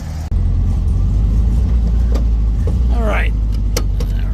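1929 Mercedes-Benz SSK replica, unrestored and recently serviced, with its engine idling and running steadily close by during a test drive, a low rumble with small mechanical clicks and a short spoken remark.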